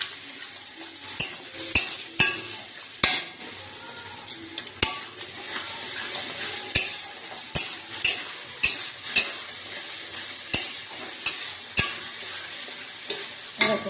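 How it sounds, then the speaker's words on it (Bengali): Bombay duck fish is sautéed with salt and Kashmiri chili powder in a pan, giving a soft continuous sizzle. Sharp, irregular scrapes and clinks of a spatula against the pan cut through it. "মশলাটাকে ভালো করে মাছটা দিয়ে ভালো করে কষাবো।"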